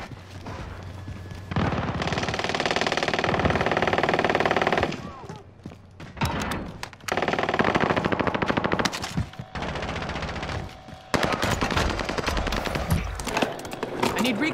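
Heavy automatic gunfire in a shooter video game, long rattling bursts and scattered shots broken by short pauses, loud and close throughout.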